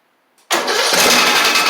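A Craftsman YT3000 riding mower engine, just after carburetor cleaning, cranks and catches abruptly, then runs loud and steady at close range with a rough, mid-pitched idle.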